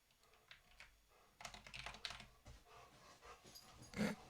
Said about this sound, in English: I don't know if you can hear my dog going in the background.